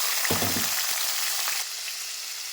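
Green chillies, shallots and garlic hit hot oil with a burst of crackling, settling into a steady, close sizzle and spatter with no voices.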